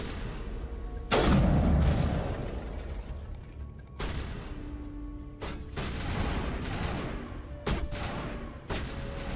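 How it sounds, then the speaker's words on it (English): Gunfire rings out in the Mass Effect video game: a loud opening burst followed by scattered sharp shots and booming blasts, separated by brief lulls, over a low ambient game hum. "Guys, who are you shooting at?"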